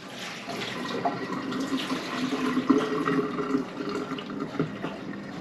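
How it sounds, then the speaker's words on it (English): Water poured off boiled potatoes into a sink, a continuous splashing gush that swells in the middle and tapers slightly toward the end. "we're going to drain the water off."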